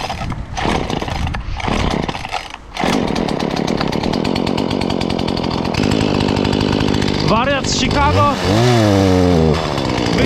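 A chainsaw trims tree branches in a field, running steadily and loud throughout after a few revving bursts, with a person talking over the engine noise near the end.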